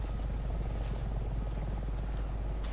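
A helicopter in the video game Resident Evil 7: a steady, loud rotor drone with a rapid low thumping that holds at an even level throughout.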